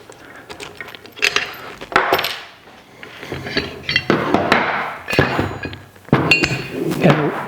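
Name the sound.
removing ball from adjustable tri-ball trailer hitch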